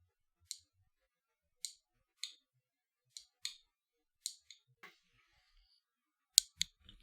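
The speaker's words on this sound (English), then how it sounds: "What's happening is that there's two distinct clicks happening back to back." A folding knife, the Artisan Cutlery Weyden Nitch design, gives crisp, sharp clicks in a quiet room, several pairs landing back to back in irregular succession, with faint handling noise between them.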